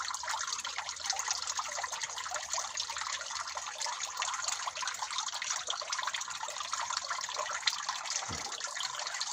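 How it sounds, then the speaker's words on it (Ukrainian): Steady trickling spring water, Naftusya mineral water from a forest spring in Boryslav, runs continuously, a bright, even splash and gurgle with no voices, close by and moderately loud throughout. "Це джерельна вода"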